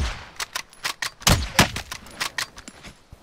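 A quick, uneven string of a dozen or so sharp shots from Call of Duty Warzone video game gunfire, aimed at the player, rings out fairly loud and close with no talk over it.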